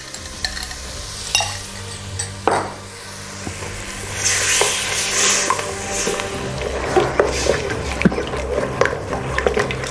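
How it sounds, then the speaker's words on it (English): Panang curry paste frying in hot oil with coconut cream gives a steady sizzle and crackle, with stirring scrapes and occasional spatters throughout, close and moderately loud. "Put your Panang curry paste in. Just fry it for a couple of seconds."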